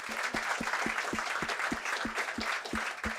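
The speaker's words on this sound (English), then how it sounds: "now you may clap." A conference audience at a freedom forum applauds, a broad, steady wash of clapping with a rhythmic low thump repeating about every quarter second beneath it, loud and continuous without speech.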